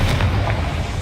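A Confringo blasting spell explodes inside a small mine in Hogwarts Legacy, a loud, dense low boom with a rumbling tail filling one brief second.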